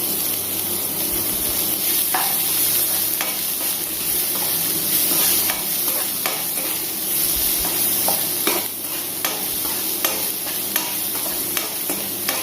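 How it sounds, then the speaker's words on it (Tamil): Chopped onions sautéing in hot oil for cauliflower gobi manchurian: a steady, loud sizzle and hiss throughout, broken by occasional scraping stirs of a spatula, with no talking. "வெங்காயத்தை நல்லா வதக்கிக்கலாம்."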